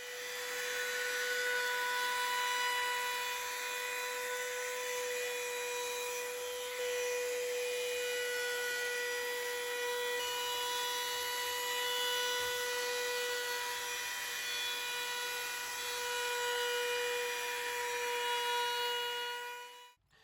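A small chamfer is cut to break the sharp edges of a wooden plant stand, producing a steady, high tonal whine that runs unbroken for about twenty seconds before stopping abruptly.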